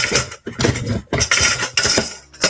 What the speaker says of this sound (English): I'm gonna grab my mixer, and we're on to the peanut butter fudge for desserts